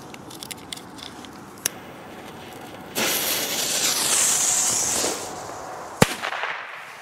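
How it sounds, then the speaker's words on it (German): A Beko China Cracker firecracker goes off with a sharp crack, then a loud crackling, hissing burst for about two seconds, followed by another sharp bang. "machen wir mal weiter mit den Beko China Cracker"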